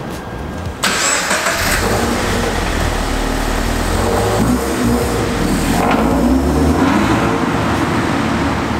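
Toyota GT86 sports car with a 2-litre boxer engine driving on the road, a steady, loud engine drone with road and wind noise throughout, after a brief quieter moment at the start.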